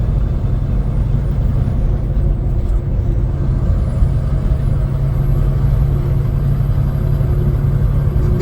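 A vehicle travels the Parks Highway near Denali, Alaska, with a loud, steady, low road and engine rumble that continues unbroken, with no voices.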